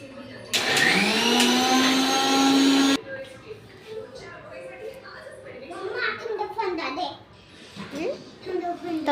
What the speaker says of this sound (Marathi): जरा मिक्सर लावून घेते.